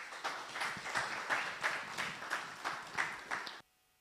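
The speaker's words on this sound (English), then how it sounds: "Another round of applause, ladies and gentlemen." Audience members at a health summit session on health financing give a fairly quiet round of applause, with individual claps audible in an uneven rhythm, before it cuts off abruptly near the end.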